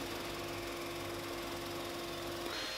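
A continuous motorized hum with a steady tonal drone, like a power sander running without pause, sanding walnut and maple wood pieces.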